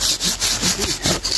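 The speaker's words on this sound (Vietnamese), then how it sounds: "lấy cái cưa khác ra cho ông cưa cái ông Hồng." A hand saw rasps through wood in steady back-and-forth strokes, about seven strokes with brief pauses between them, close and loud.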